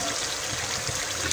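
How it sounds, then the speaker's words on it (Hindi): Water pours steadily into a pot of aloo gosht curry to make the broth, a short continuous trickle heard up close. "2 गिलास पानी डालूंगी शोरबे के लिए ना"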